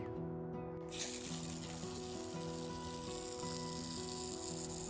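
A hose spraying water over a raised garden bed, a steady hissing spray that starts after a short pause and carries on evenly, with soft music playing underneath.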